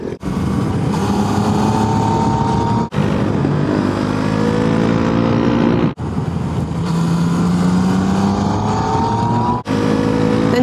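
A KTM Duke motorcycle ridden on a mountain road in Sardinia, its engine droning loud and close throughout, with pitch climbing through the gears and sharp breaks at each gear change.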